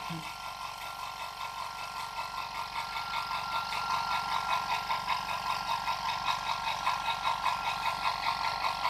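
An airbrush air compressor runs steadily with a continuous motor hum and pulsing whine that slowly builds in loudness as pressure climbs toward 8 bar, with no clear cut-off heard.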